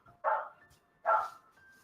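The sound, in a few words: dog barking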